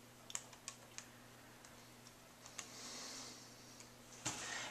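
Calculator keys are pressed to enter a number, a string of faint, irregular light clicks and taps over a steady low electrical hum in a quiet room.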